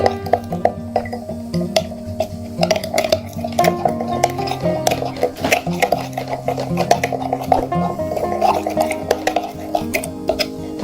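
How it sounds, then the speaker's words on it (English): A utensil stirs ground bay leaves and other remedy ingredients in a bowl, giving repeated clinks and scrapes in an irregular rhythm, close and fairly loud. "Mix the ingredients all together like so."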